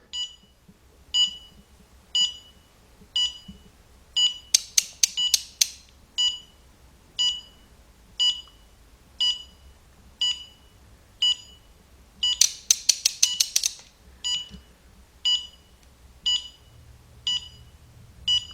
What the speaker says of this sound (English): Now that beep right there, that lets you know that you are now on ratcheting mode.